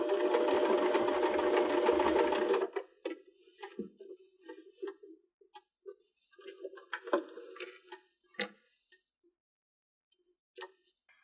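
A sewing machine back stitches across a cork purse strap, a dense steady whir for about two and a half seconds, then scattered short stitch bursts and clicks with pauses.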